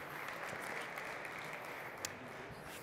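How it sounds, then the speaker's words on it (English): An audience at a talk gives a speaker a round of applause, a faint, steady, dense patter of many hands heard from a distance. "So please give a round of applause for Dr. Dan Hayden from Facebook."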